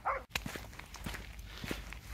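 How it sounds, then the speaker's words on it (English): Two dogs barking nearby during a 10K run, a quick burst of sharp yips at the start followed by faint footsteps and outdoor noise. "Stop barking, you two."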